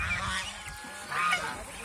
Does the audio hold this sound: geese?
yes